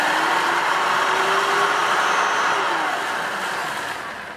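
A battery-powered 2-in-1 cordless stick vacuum cleaner motor whirs continuously close by in a steady airy hum, easing off slightly toward the end.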